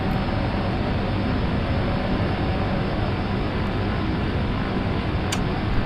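Cessna C208B Caravan turboprop engine at full power in X-Plane 11, a loud, steady broadband roar that holds unchanged throughout with no talking.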